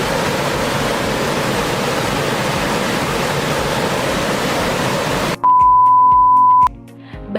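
A river flows over rocks with a loud, steady roar of rushing water for several seconds. It cuts off abruptly and is followed by a sustained electronic beep.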